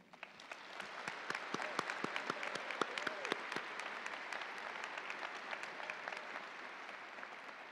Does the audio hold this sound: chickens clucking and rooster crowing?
no